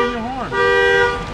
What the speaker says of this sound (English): Stop beeping your horn.